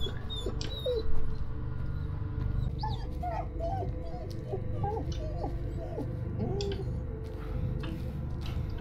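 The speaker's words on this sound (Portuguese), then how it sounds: "Que agonia esse cachorro chorando" Dog Bullet whimpering and crying in Blair Witch, a string of thin, high, wavering whines repeated over a low rumbling background, moderately close and faint.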